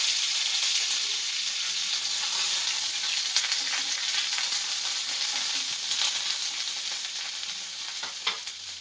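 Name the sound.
chana dal, urad dal and curry leaves frying in oil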